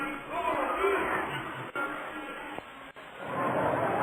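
Crowd noise at a Cedar Rapids Kernels minor league baseball game, where a small Monday-night crowd of about 1,400 gives a continuous murmur with scattered cheers and children's shouts.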